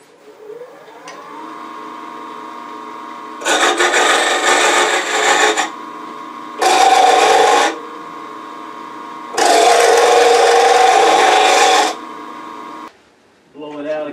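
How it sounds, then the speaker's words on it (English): A nickel scraper cuts into wood spinning on a lathe while a salt shaker is turned, making three bursts of harsh rasping scrape over the steady whir of the machine. "I'm going to use this nickel scraper to kind of come in back behind here and get a little bit more out through here."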